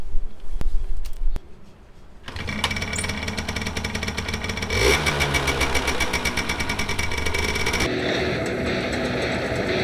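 A Derby 50cc moped engine cranks with a few sharp knocks, then catches and settles into a loud, steady, buzzing two-stroke idle close to the listener, with no one talking.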